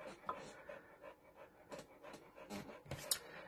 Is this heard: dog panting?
yes